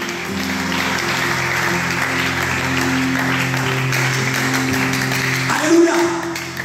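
A church congregation applauds for Jesus in steady, sustained clapping with a sustained organ or keyboard tone underneath, swelling slightly near the end.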